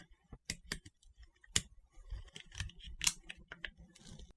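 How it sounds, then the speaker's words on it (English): Batteries pried and slid out from the back compartment of a GE universal remote, a quick run of sharp plastic clicks and snaps with small rattles, close and fairly loud, with no talking. "and if you take the batteries out"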